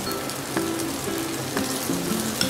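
Flatbread pathiri frying in a thin layer of sunflower oil gives a steady, close crackling sizzle with a few sharper pops scattered through it, and no voices.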